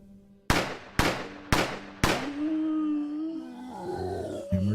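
Four sharp, loud gunshots crack in quick succession, about half a second apart, while a zombie is shot down in Barren Roads; a ringing tonal hum lingers afterward with a final small knock.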